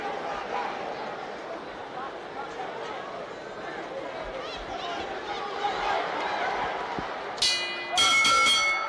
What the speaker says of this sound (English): There's the bell. That's the end of round one.